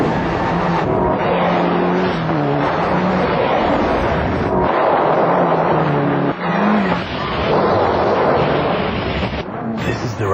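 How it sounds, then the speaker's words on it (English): A Toyota Corolla Sportivo rally car with a VVTL-i engine rated at 141 kilowatts revs hard and loud, its engine note rising and falling through gear changes, with the car roaring past up close. "The rally car that the new Corolla Sportivo is built around, with a VVTLI engine that generates 141 kilowatts of power."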